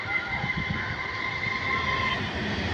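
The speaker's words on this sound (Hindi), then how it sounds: "एक और ट्रेन आ रहा सोने पर सुहागा, यहाँ पे हम लोग देखे आ रहे वो ट्रेन" A local train draws in with a steady, continuous rumble and rail hum, fairly loud and unbroken, with no voices over it.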